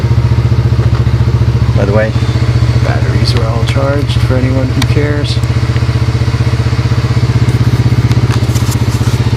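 1985 Honda 250SX motorcycle engine running steadily in a low, loud, continuous putter throughout, with someone talking over it.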